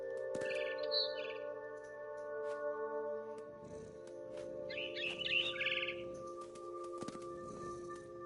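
Bright bird chirps in a video game, What Remains of Edith Finch, come in two short bursts over a steady electronic hum and low rumbling tones, fairly quiet overall.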